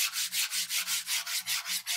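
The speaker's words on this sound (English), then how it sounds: "you can do the same sanding process if you want to with this stuff" Leather edges sanded by hand with quick back-and-forth rubbing strokes, about nine even passes in two seconds, close and steady with no talking.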